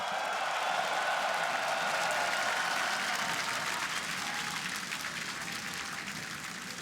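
A large esports arena crowd in Rotterdam cheers before Fnatic versus Origen game one in the LEC Spring 2019 semi-finals, a dense, sustained roar of cheering and applause that eases slightly toward the end.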